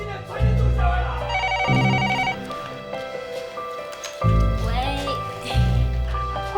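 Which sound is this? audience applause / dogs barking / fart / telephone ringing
telephone ringing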